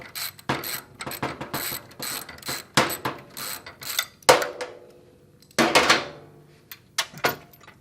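Ratchet wrench clicking in quick bursts while loosening a bolt on the exhaust of a Yamaha R9 motorcycle, close and sharp, with short pauses between strokes and heavier clunks as the bolt gives.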